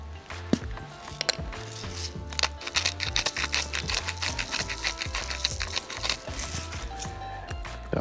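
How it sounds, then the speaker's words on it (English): A salt grinder cranks salt over food being prepared for osso buco on a Weber grill, giving a steady run of quick, rhythmic gritty clicks and crunches close by, with no speech. "grind salt."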